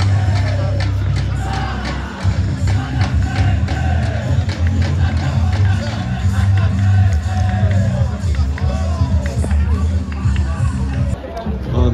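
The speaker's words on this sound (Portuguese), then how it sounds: "a torcida organizada do CSE" Organized supporters of CSE football club fill Juca Sampaio stadium during a Série D derby against ASA, a loud continuous crowd roar with chanting and cheering throughout, close and dense.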